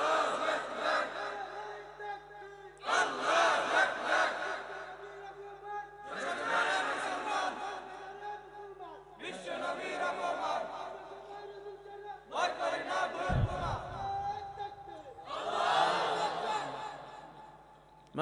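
Crowd at a Bengali Islamic sermon gathering answering in unison with takbir, six loud collective shouts about two and a half seconds apart, each a sustained swell of many voices.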